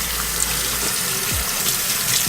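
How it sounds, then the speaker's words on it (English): Tap water gushing steadily into a sink while a Yeezy 700 sneaker is rinsed off after a Tide Pod wash, loud and close with continuous splashing. "So let's go ahead and wash it off."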